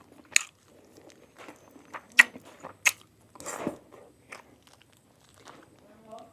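Crispy food being bitten and chewed up close, with several sharp crunches spaced irregularly and softer chewing between them, while faint voices murmur in the background.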